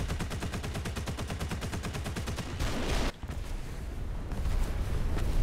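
Machine gun fire in a video game comes as a long, rapid, evenly spaced burst, loud and close. It breaks off briefly, then dense shooting resumes.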